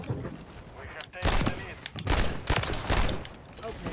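Rapid bursts of gunfire from a Call of Duty match, dense and loud, with several sharp volleys in quick succession over a constant background of in-game noise and voices.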